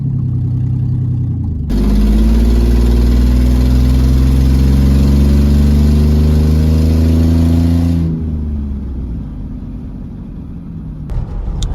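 Swapped engine in a cheap Ford two-wheel drive coil spring truck, idling loud and close with a steady low rumble, rising briefly in pitch as it revs, then settling back to a lower idle before stopping.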